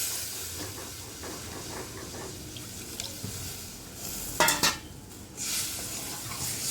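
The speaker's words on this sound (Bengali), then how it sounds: "এবার আমি জলটা দিয়ে দেবো" Water is poured into a pan of fried spice paste for a Bengali fish curry, setting off a hiss and sizzle with a sharp burst of steam midway over low kitchen noise.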